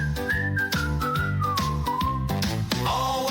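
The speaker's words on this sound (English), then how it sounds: "just purse your lips and whistle" A person whistles a bright, sliding melody, clear and close over a rhythmic instrumental backing that keeps time underneath.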